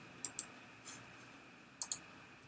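A computer keyboard clicks in two quick pairs of sharp keystrokes, close and fairly crisp, over a faint background hum with no talking.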